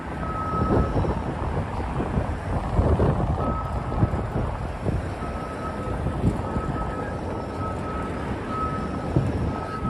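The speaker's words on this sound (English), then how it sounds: "The wind is already starting to pick up." Wind gusts through Midtown Manhattan streets at night, making a loud, continuous rumbling buffet against the microphone with a faint steady tone beneath.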